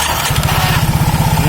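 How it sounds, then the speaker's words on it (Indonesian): Yamaha Soul GT scooter with a faulty starter cranks under its electric starter, a fast close mechanical chugging pulse that runs steadily through the brief moment. "Kita coba starter ya, teman saya lagi mau starter"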